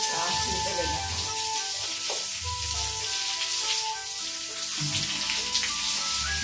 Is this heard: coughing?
no